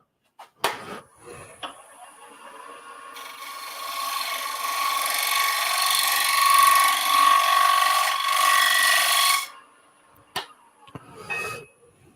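Scraping tool working a face grain woodturning piece on the lathe, a sustained rasping, whirring scrape that swells and holds for several seconds before stopping, with a few brief knocks and clicks around it.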